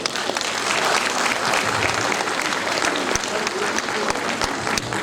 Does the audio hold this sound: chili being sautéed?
no